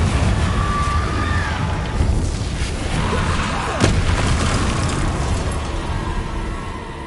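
The Confringo fire spell in Hogwarts Legacy goes off as a loud booming blast with a sharp crack partway through, set against a dense roar of rumbling game noise.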